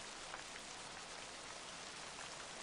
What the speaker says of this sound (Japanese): 冷え切った沈黙の中、雨足が強さを増す。